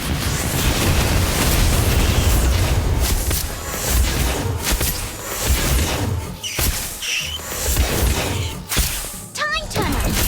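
Confringo blasting spell explosion in the Harry Potter: Magic Awakened video game: a loud, sustained rumbling burst with crackling debris, game music and effects layered over it, fading into lighter magical chimes near the end.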